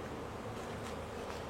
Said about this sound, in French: On voit que les abeilles ramènent pas mal de pollen